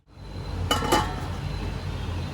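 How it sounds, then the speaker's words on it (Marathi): A lid set onto a cooking pot of Khandeshi dal khichdi, giving two quick close metallic clanks followed by a steady low hiss. "आता ह्यावर मी झाकण घालून घेते"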